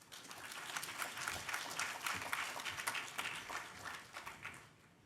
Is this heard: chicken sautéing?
no